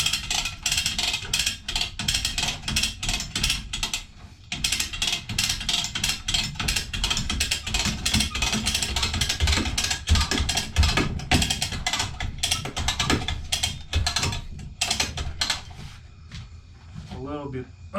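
A ratchet crank hoist lifting a Kove 450 Rally or Husqvarna 701 Enduro motorcycle to be weighed, giving a steady run of close clicks under ongoing talk.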